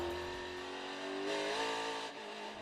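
NASCAR stock cars on a racetrack at the 2018 FireKeepers Casino 400, one warming its tires with engine howl and rising revs, a steady, moderately loud drone from a fairly close car, with no voices.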